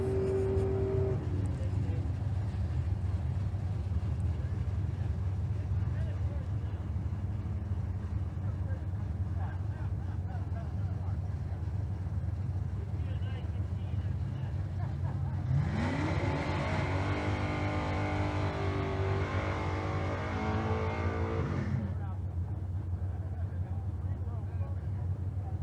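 A limited small tire drag racing car launches down the strip at the Street Car Super Nationals in Las Vegas, its engine roaring loud for several seconds, rising in pitch, then cutting off over a steady background drone.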